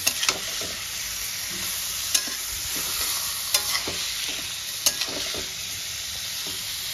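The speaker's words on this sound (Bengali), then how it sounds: "হাই ফ্লেমে গ্যাসে একদম চিকেনটা খুব ভালো করে কষাতে থাকবো" Chicken stir-fried over a high gas flame, loud continuous sizzling with sharp scrapes and spoon knocks against the pan every second or so, close and alone without talk.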